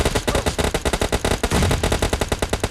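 Rapid automatic gunfire from PUBG Mobile Lite, loud, dense bursts of shots in quick succession with no pauses, no voices.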